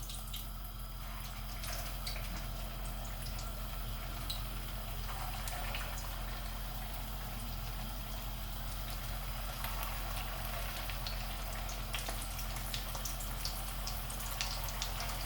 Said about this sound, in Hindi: आई थिंक गर्म हो चुका है ऑयल। तो अब हम इसको फ्राई करेंगे।